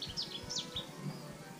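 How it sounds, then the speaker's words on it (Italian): Small birds chirp outdoors along a coastal trail at Ascea Marina, several quick, faint tweets in the first second, then quieter, over soft ambient noise. "No, gli uccellini, li stavo sentendo."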